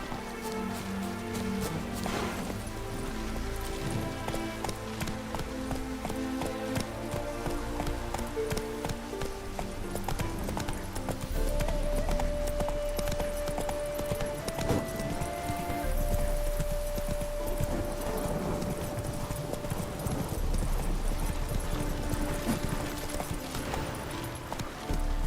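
Hooves of the horse Roach galloping in The Witcher 3 video game, a steady rapid clip-clop running continuously under a dense musical score with no talking.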